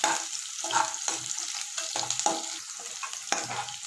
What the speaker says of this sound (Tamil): இந்த பச்சை மிளகாவை போட்டுடலாம். அது நல்லா வதங்கட்டும்.